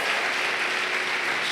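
A church congregation applauds during an evening worship service, a dense, steady wash of clapping filling the room at constant loudness without pause.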